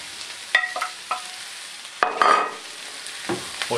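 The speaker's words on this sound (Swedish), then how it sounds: "Sen när det har brynt ett tag så häller vi i korven" Sausage sizzles as it is stirred in a hot frying pan while cooking a sausage stroganoff, with a few sharp scraping strokes over a steady background fry and no voices.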